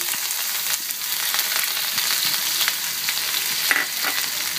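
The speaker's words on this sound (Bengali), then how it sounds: "এটাকে আমি ততক্ষণ পর্যন্ত ভাজব যতক্ষণ না এটা পুরোপুরি ফোড়নের মতো হয়ে যাচ্ছে, ততক্ষণ পর্যন্ত এটাকে খুব ভালো করে ঘন হাতে নেড়ে নেড়ে ভেজে নেব।" Chopped onion and garlic frying in oil in a pan, a steady close sizzle throughout with occasional stirring scrapes and crackles.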